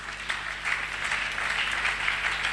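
A church congregation applauds after a Bible reading at a French-language prophetic service, a dense wash of many hands clapping steadily in a reverberant hall, sustained and fairly loud with no single voice standing out.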